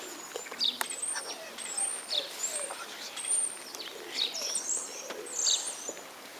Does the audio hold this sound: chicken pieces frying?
no